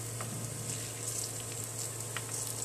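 Banana fritters, kola pitha batter, frying in hot oil until browned, giving a continuous close sizzle with faint bubbling and crackle throughout.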